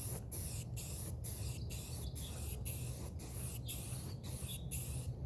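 Spray paint hisses onto a CycleKart part laid on a flat surface for a light first coat, in close, steady bursts with brief regular pauses between passes.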